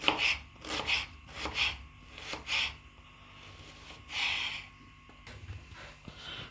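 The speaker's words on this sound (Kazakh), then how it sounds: "қызанағымызды тураймыз" A knife chops tomatoes repeatedly against a board in uneven strokes, soft rasping chops close by, with a pause before a final louder cut.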